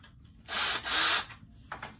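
A cheap hand-cranked case trimmer cuts the mouth of a brass cartridge case in one short, loud, close grinding burst, followed by a briefer scrape.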